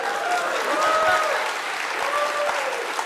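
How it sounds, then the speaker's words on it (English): Sustained applause from a conference crowd at a programming event's opening session, a continuous wash of many hands clapping at steady loudness, with a few brief tonal squeaks and light murmurs mixed in. "If you keep clapping, we're not going to get through this in time."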